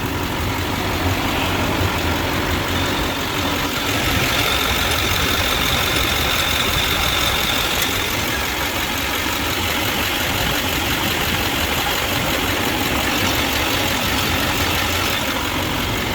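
The diesel engine of a 2005 Duramax truck idles steadily for the whole stretch, a constant close rumble with a hissing, blowing layer on top and no talking.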